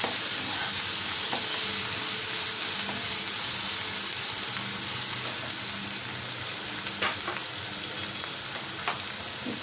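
Curry leaves crackle and fry in hot oil in a pan for a tomato methi curry. A loud, continuous close-up sizzle runs throughout, with a few light clinks of a spoon stirring.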